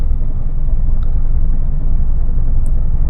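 A 2017 Maruti Celerio's 1000cc petrol engine lugs in fourth gear at about 10 km/h, giving a loud, steady low rumble with a muffled in-cabin drone and no talking.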